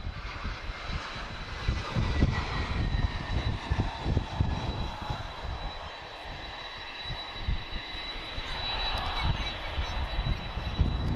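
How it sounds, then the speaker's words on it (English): A Vueling airliner flying in to land passes overhead as a steady, broad engine roar, holding loud for the whole stretch with a slight dip midway and no talk. "just got a Vueling inbound here, guys. This looks like a specially marked one."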